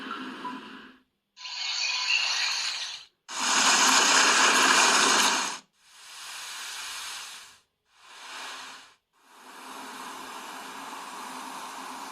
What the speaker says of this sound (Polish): Możesz sobie posłuchać morza.